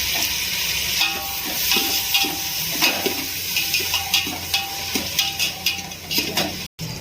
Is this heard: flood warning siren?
no